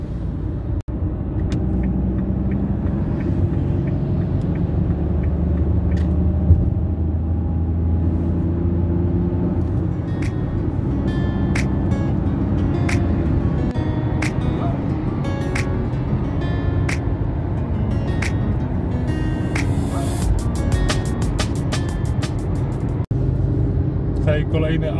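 A Dacia 1.0 running on LPG accelerates onto the A2 motorway, its steady low engine drone and road rumble continuing without a break under intermittent speech throughout.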